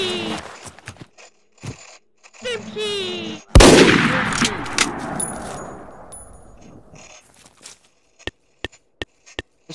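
Sniper rifle fire in the video game Garry's Mod: one loud, sharp shot with a long fading tail, followed later by a quick run of short, crisp snaps. A voice talks briefly beforehand.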